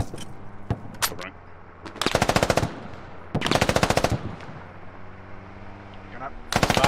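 Automatic gunfire rips through a Squad bridge assault in several loud, rapid bursts separated by short pauses, with scattered single shots and a radio-tinged voice talking in the gaps.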